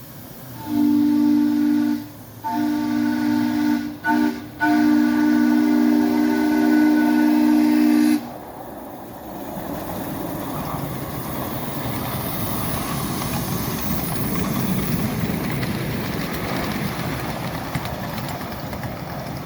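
A steam locomotive on a railroad blows a loud, chord-like whistle in several long blasts with brief gaps, then gives way to a steady hissing, chuffing engine noise that carries on beneath.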